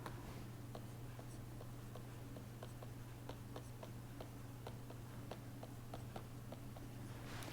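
Pen or chalk writing out a truth table in a lecture hall, producing faint, irregular ticking taps and short scratches over a steady low hum, quiet and close.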